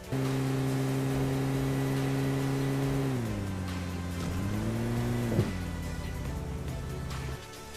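Vehicle engine in a video game, a steady droning tone that dips in pitch, rises again, then cuts off near the end, heard alone.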